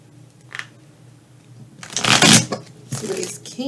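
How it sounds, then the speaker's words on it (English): Tarot cards shuffled and pulled from the deck, a soft flick near the start followed by louder riffling bursts of shuffling close up, with a voice speaking between them. "I'm going to pull 3 more cards for clarity."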